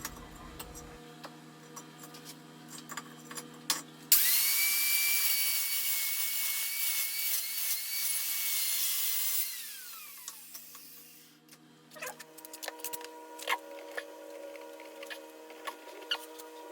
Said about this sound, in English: I'll get tricky with this one and cut 2 bricks into wedges